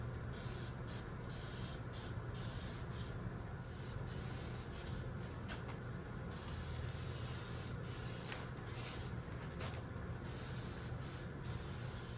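Aerosol can spraying Rust-Oleum Rust Reformer onto the front bumper of a 1996 Ford F-Series 4x4 truck, a steady, close hiss that runs without pause, with faint rattles and bumps underneath.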